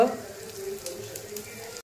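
Cumin and asafoetida hit hot oil for a tempering, giving a soft, close sizzle that runs briefly and then cuts off abruptly.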